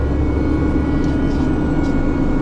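A concrete mixer truck's engine drones steadily at raised RPM, a loud, constant low rumble with no talking.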